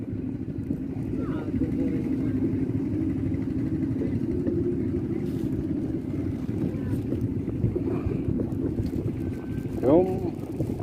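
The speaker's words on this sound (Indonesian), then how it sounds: "Angin pun cukup kencang" Strong wind buffets the microphone beside the water at a fishing village in Belawan, a steady low rumble with boat engine noise underneath and a voice speaking faintly in the background.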